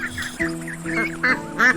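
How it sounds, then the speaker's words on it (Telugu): Several ducks quack in quick succession, close and clear, their nasal calls overlapping in a short burst. "ఆ చెరువులో కొన్ని బాతులు కూడా ఉండేవి."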